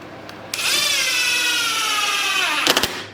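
A power drill drives screws into a DIY wooden mobile base, its motor whining loud and close in one steady burst of about two seconds, ending with a few short clicks and taps.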